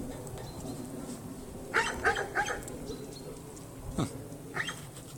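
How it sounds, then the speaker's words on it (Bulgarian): Guard dog in a snowy house yard giving a short run of barks, a few quick yaps close together, then a couple of single barks, moderately loud against a quiet outdoor background. "Ето куче пазач."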